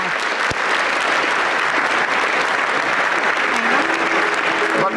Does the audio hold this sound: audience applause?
yes